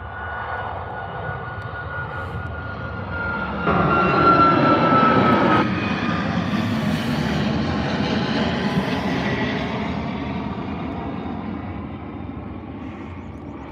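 Ryanair Boeing 737 airliner at Birmingham airport, its engines producing a steady loud roar with a rising whine that swells for a few seconds mid-way, then holds as a broad continuous rumble.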